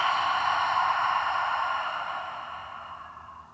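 A long breath pushed out through the mouth during a yoga breathing exercise, a steady airy rush heard close up that slowly fades over a few seconds, with no talking.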